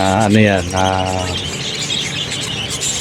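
Pet parakeets chirping: a short run of loud, close, warbling chirps and a rising whistle at the start, trailing into softer chatter under steady background noise.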